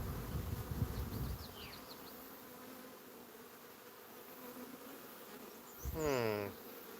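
Honeybees buzzing around open beehives, a close buzz of individual bees passing the microphone, rising loudly near the start and again near the end, with quieter hum between.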